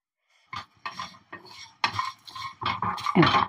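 Cumin seeds, coriander seeds and garlic dry roasting in a pan while being stirred, giving bursts of scraping and rattling clatter from a utensil against the pan, close and moderately loud, with no talk.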